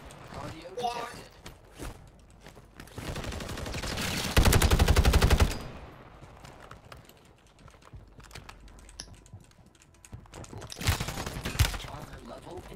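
Gunfire in the Warzone battle royale video game, with scattered shots early, then a loud, dense burst of rapid automatic fire in the middle and more shots toward the end, under keyboard clatter and talking voices.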